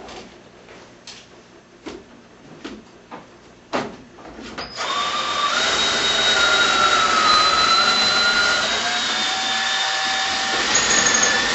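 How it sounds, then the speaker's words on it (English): A power drill bores pocket holes into the end of a wooden frame board in a home workshop. A few sharp knocks come first, then a steady, loud whining drill run holds to the end. "First, you drill two holes in the end of the frame board."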